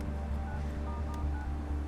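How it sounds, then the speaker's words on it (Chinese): Telephone dialing tones sound as a number is keyed in during an indoor drama scene: faint, steady tones over a constant low hum, with no speech. "还是得打电话问一问"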